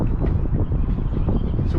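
Wind gusting over a lake in Tennessee while fishing for blue catfish from a spot-locked boat under a bridge, a continuous low rumbling buffet of wind noise, close and fairly loud, with no talking.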